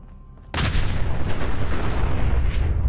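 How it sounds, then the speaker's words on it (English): A sudden, loud car explosion erupts in the video game Fallout 4, with a heavy boom that rumbles on without fading. "Chill out with the car explosions"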